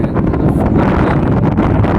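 Wind blowing across the open salt flats of Gangta Bet in the Rann of Kutch, a steady broadband rush with buffeting gusts on the microphone, loud and continuous for the whole stretch with no voices.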